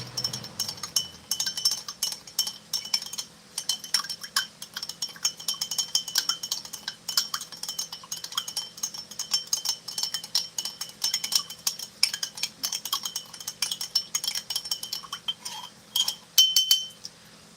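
A spoon clinks rapidly and continuously against a container while stirring a powdered MRE drink mix in water, a bright, close, rhythmic metallic tinkling that runs steadily throughout.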